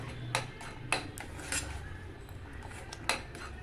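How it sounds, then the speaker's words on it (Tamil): A spoon stirs thick sapota (chikoo) halwa in a pan on a stove over low flame, scraping and knocking against the metal in sharp, evenly spaced clinks, close and clear with no talk. "அடுப்பில் வந்து சிம்மில் வச்சுக்கிட்டு கிளறிட்டே இருக்கணும்."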